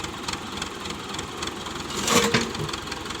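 A Ford 7740 tractor engine runs at a steady mid-pitched idle, moderately loud and close, with a brief louder surge near the end.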